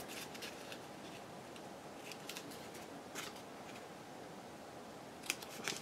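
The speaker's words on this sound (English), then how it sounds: "I do like to cut these at an angle so that you don't see the edges of them." Scissors snipping envelope paper flaps at an angle, heard as soft, quiet, irregular crisp cuts and rustles at close range, with no talking.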